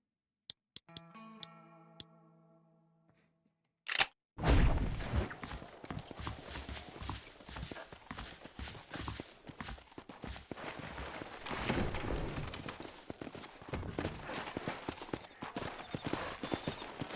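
Horse hooves clip-clopping in Red Dead Redemption, a few sharp isolated clicks at first, then a steady run of hoofbeats over a gritty, noisy background that continues throughout.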